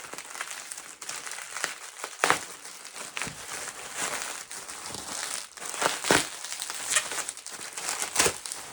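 A mail package containing books is sliced open with a blade cutting away from the body, giving crinkly crackling and tearing of packaging with sharp scraping bursts, close and fairly quiet, with no speech.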